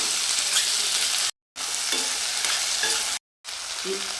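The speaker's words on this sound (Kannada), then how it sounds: "ಒಗ್ಗರಣೆ ಚೆನ್ನಾಗಿ ಬಾಡಿಸ್ಕೋಬೇಕು" Small sambar onions sizzle and crackle in hot tempering oil with occasional stirring, the steady frying broken by two brief silent gaps.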